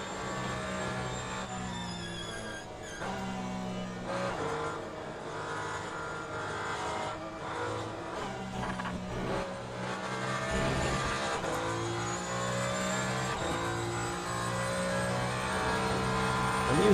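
Race cars in Le Mans Ultimate, pushing past Porsches during the Le Mans event, roar loudly and steadily, with engine pitch rising and falling through gear changes and cars passing close by, all without talk.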